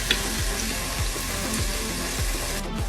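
Cream, mustard and cream cheese stirred together in a pan, a steady soft bubbling sizzle with repeated scraping strokes of the spoon sweeping through the sauce at close range, no voices.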